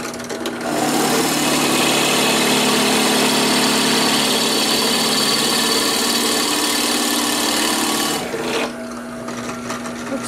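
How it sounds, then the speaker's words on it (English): A drill press bores a 1-inch hole into a piece of 1x6 wood, its motor whirring steadily close by as the bit grinds and rasps through the board for about eight seconds before spinning down. "I have my drill press centered, and I'm going to drill a 1-inch hole about 3/4 of an inch deep"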